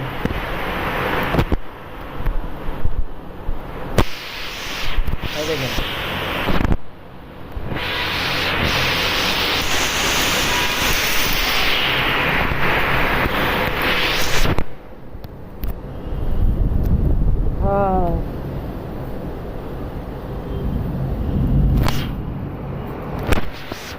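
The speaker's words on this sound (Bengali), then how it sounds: "কি বাতাস এই ভাই দেখেন" Loud, sustained roaring wind gusts of a Kalbaishakhi (nor'wester) storm, broadband and rumbling, rising and falling over the whole stretch with occasional sharp bursts; a faint voice appears briefly.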